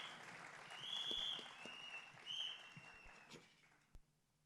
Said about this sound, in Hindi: एक बार जोरदार तालियां हो जाएं सबके लिए।